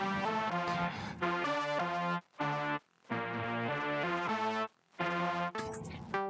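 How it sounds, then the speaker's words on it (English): Electric guitar run through an Eventide H90 phaser program with a Boss DS-1 distortion, sustained distorted chords that sweep and swirl, played loud in several strummed bursts separated by brief gaps, alone without talk. "JK Phase, which has a hot saws and a phaser"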